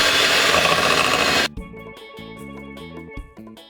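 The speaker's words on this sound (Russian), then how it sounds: "включаем миксер на медленной скорости" An electric mixer on slow speed whirs loudly and steadily through vanilla-flavoured batter for an Italian olive oil cake, then cuts off after about a second and a half, leaving quieter tonal sounds.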